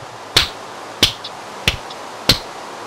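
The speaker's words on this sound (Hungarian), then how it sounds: "Tapsolok." Four sharp, separate hand claps ring out alone at an even, unhurried pace, each one crisp and close with a quick decay.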